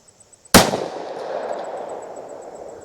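A single sharp .45 Auto pistol shot of Ammo Inc. X-Def ammunition fired into ballistic gel, loud and close, with a lingering ringing decay after a few faint clicks.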